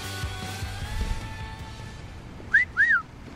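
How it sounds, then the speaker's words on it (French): In a film scene, a man gives a two-part wolf whistle at a woman, rising then falling, loud and near over a quiet background hum. "il m'a sifflé"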